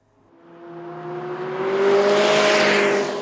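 A McLaren 600LT on the Hungaroring circuit accelerates hard, its engine note climbing steadily from quiet to a loud, sustained roar that stays close, with no talk.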